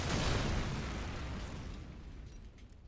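A grenade explodes in Call of Duty 4 multiplayer, a heavy rumbling blast that decays slowly over a few seconds.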